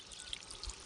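Small stream of water pouring and trickling into a rice paddy nursery in a hill village of Pithoragarh, Uttarakhand, a soft steady gurgle close by with no talk.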